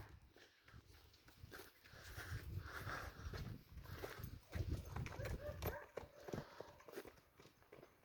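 Several horses, two of them mares, shuffle and move about together in a tight corner, with hooves clip-clopping in irregular bursts, close and fairly loud, alongside people's voices.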